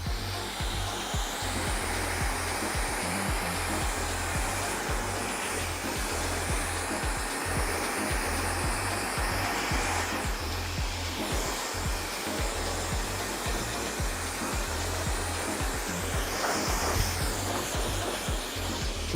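Hair dryer blowing air through freshly colored hair during a salon blow dry, a loud continuous close-up roar that stays steady throughout without any voices.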